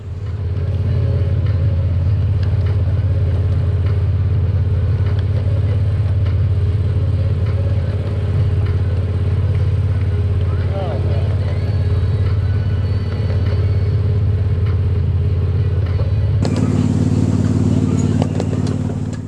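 The FEC 430 locomotive sits in a rail yard, its diesel engine holding a steady, deep idling rumble for the whole stretch before the tone shifts abruptly near the end.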